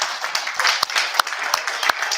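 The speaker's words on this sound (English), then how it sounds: "Some people are clapping their hands." An audience at a National Federation of the Blind session in Idaho claps hands, sparse scattered claps rising into a looser patter with a few sharp individual claps standing out, while a voice talks over it.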